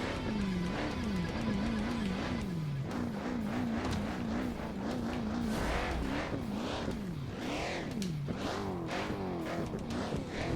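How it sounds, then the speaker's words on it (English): A UFO car in the BeamNG racing game crawls over rock trails, its engine droning and pitching up and down continuously with loud, steady revving throughout, accompanied by rumbling and clattering as it climbs over rocks. "I really, really, really like the way that this UFO car runs through pretty much everything."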